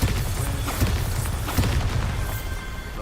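Bombarda blasting spell explosion in Hogwarts Legacy: a continuous run of heavy booming blasts and crashing rumble, loud and dense across the whole stretch, with no voices.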